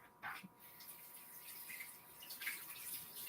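Water runs from a tap as something is rinsed under it in a kitchen, a faint steady splashing with a few brief changes as the item moves through the stream.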